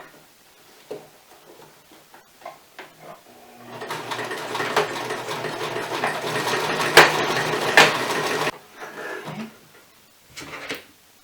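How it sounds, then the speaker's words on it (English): A sewing machine stitches back and forth to secure a seam on an elastic cinch skirt for active, athletic or swim wear, a steady mechanical whir running for several seconds mid-clip, with quieter handling clicks before and after. "just back and forth stitching a good, 5 to 7 times to really make sure that is secure"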